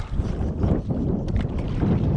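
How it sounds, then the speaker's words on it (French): Steady thermal wind gusting against the microphone on a lake in French Guiana, a constant low rushing roar with slight swells, close and fairly loud. "Thermique qui souffle."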